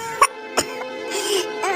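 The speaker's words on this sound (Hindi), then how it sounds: "ये कैसी खांसी है?" A woman coughing in short, sharp bursts, two distinct coughs followed by strained, wheezy breathing in an animated village story scene.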